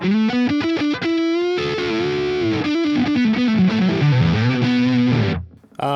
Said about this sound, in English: So neck position, full humbucker now.